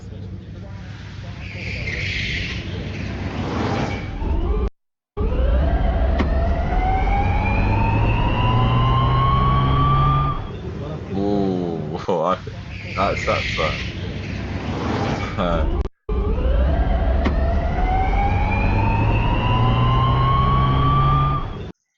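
A rising electric motor whine climbs in pitch over a low bass hum as an electric vehicle accelerates, twice, with people talking over it.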